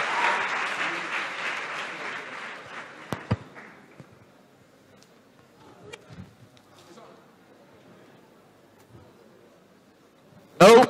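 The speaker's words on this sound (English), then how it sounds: "A round of applause for them." At an inter-school debate competition, an audience applauds a debate team. A burst of clapping opens the stretch and fades within about four seconds into a quiet room with a few faint sounds, and a loud close thump comes near the end.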